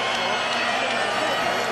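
A boxing crowd at Madison Square Garden's theater murmurs and stirs during the Freddie Cuevas vs John Duddy bout, a dense steady roar with a voice talking over it.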